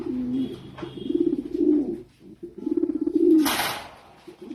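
A pair of white pouter pigeons coos in repeated low, rolling phrases close by, with a short break partway and a brief sharp rustle near the end.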